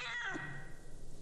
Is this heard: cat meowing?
yes